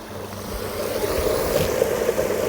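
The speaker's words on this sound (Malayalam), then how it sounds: "വെള്ളത്തിൻ്റെ ആ ഒരു കളകളാരവം കേട്ടോ നിങ്ങൾ" Mountain stream water in Royal National Park near Sydney, running toward the sea, makes a steady rushing, babbling wash that holds an even level throughout with no voices.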